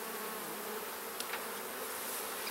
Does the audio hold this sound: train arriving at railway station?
no